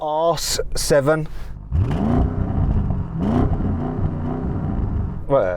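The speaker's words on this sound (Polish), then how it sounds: "Sprawdźmy, który samochód wydaje się najbardziej ekscytujący, gdy doda się gazu." A sports sedan, one of an Audi RS7, BMW M8 or GT 4-Door, revs hard under acceleration, its engine note sweeping upward in two loud rising pulls after a brief burst of talk at the start.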